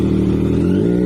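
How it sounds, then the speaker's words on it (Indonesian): An inline three-cylinder motorcycle engine with 120-degree crank spacing runs steadily up close, a loud, even, low-pitched drone held without change for a brief moment and no voices. "Berikut suara motor tiga silinder."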